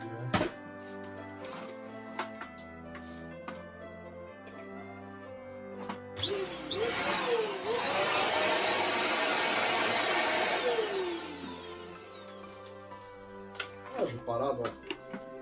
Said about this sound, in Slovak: takýto vysávač, klasika.